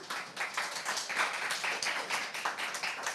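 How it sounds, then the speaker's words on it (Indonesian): A small audience at a Huawei IdeaHub product event claps for a presenter, a moderately loud, slightly uneven patter of hand claps that holds steady for a few seconds without any talking. "Mungkin kita bisa beri tepuk tangan untuk Pak Galuh."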